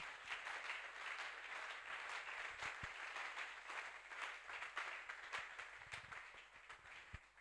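A church congregation applauds during a Tuesday teaching and prayer service, giving a sustained, faint and somewhat distant clapping that runs evenly throughout with a few sharper claps standing out.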